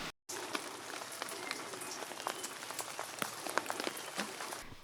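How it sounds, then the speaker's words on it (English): Steady rain in New Zealand pattering on a surface, with scattered close drips and taps, continuous and fairly quiet. "It's raining"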